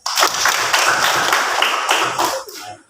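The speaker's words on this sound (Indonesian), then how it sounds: "mari kita berikan tepuk tangan kepada si Jaya" Classroom applause for a pupil named Jaya, a dense burst of many hands clapping steadily for nearly three seconds before tapering off, close and lively.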